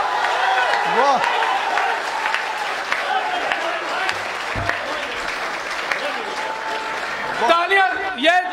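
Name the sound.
audience applause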